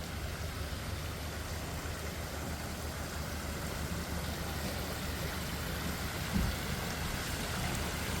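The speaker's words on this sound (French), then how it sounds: "Fontaine et cascade avec mini cascade." Steady broadband rush of water from a public fountain with a small cascading waterfall on a promenade in Monaco, a continuous even splashing that fills the whole clip with no voices.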